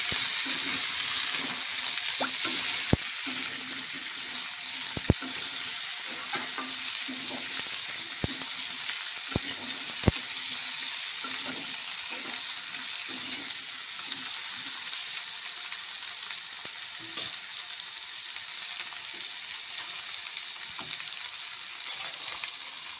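Eggplant and potato pieces frying in a pan of hot oil, a steady close sizzle with scattered metallic clinks of a utensil against the pan, no voices.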